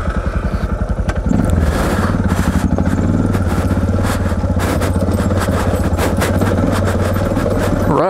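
A Suzuki DR650 motorcycle engine thumps loudly and steadily while riding along a sandy railway track and over a bumpy bridge, the rapid firing pulses rising slightly after a second, close and continuous.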